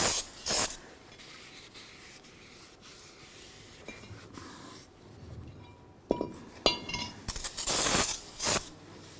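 Cleaner sprays onto the brake rotor of a 1999-2007 Chevy Silverado during a front brake job, with several sharp hissing bursts at the start and end separated by quieter rubbing and light metallic clinks.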